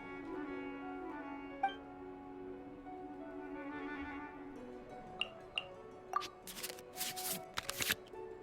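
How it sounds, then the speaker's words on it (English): Cards shuffle back into a draw pile in Genshin Impact's card game, a soft riffling swell followed by several crisp slaps and flicks, close and fairly quiet over a faint musical background. "we can select any number of cards in our hand to shuffle back into the draw pile"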